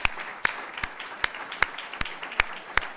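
A gala audience applauds partners of legal congresses at the AJEFO 2022 gala. A steady wash of clapping runs under sharper, regularly spaced individual claps, moderately loud and sustained for the whole stretch.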